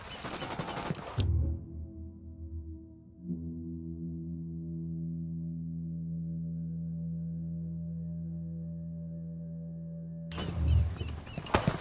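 Short bursts of gunfire in the video game Ghost Recon Wildlands crackle at the start and again at the end, separated by a long, steady, humming engine drone.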